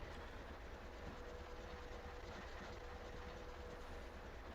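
Pacer train's diesel engine ticking over in Train Sim Classic on the Boston & Albany route, a steady, faint low rumble with no talk.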